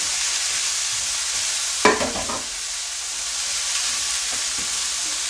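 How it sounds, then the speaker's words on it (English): About 12 ounces of frozen spinach sautéing in a pan, giving a loud continuous sizzle close by, with one brief burst of stirring and clatter partway through and no voices. "We want to let that saute."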